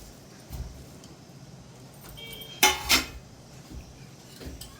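A metal lid lifted off a cooking pot of chicken and masoor lentil pulao, giving two close clanking clinks in quick succession amid faint kitchen background noise.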